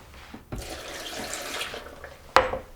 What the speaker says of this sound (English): We add our water.